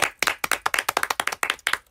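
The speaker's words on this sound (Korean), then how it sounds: "저희는 일단 박수" A small group claps together in quick, rhythmic bursts, about a dozen sharp claps in under two seconds, close and fairly loud with no talking.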